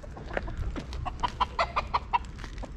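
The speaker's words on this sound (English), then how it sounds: "We've got some friendly Gibraltar chickens." Chickens on a street in Gibraltar give a quick series of close, short clucks in an uneven rhythm over faint background noise.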